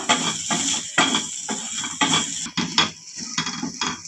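A spoon works through masala sautéing in a pan, making repeated scraping strokes about twice a second over a soft sizzle, close up and with no talking.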